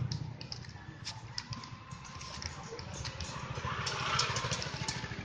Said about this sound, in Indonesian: Oke, mulai banyak motor di sini.